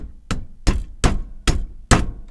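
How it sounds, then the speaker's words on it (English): A hammer lightly taps a brass nut onto a transmission for a Tyco Bandit RC car: five sharp, close, evenly spaced knocks, with no talk. "on top I will simply tap it lightly with a hammer"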